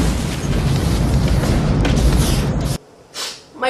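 Loud, dense explosions roar continuously in an animated film action sequence, a sustained booming blast that cuts off abruptly near the end, followed by faint scattered sounds.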